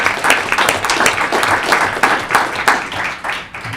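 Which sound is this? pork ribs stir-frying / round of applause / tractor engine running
round of applause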